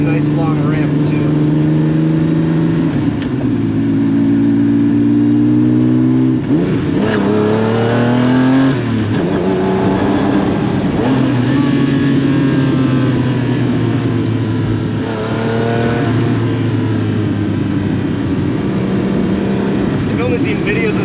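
A Lamborghini Countach accelerates hard up a highway on-ramp, its engine roaring loud and close through second gear with revving shifts; someone talks over the engine throughout.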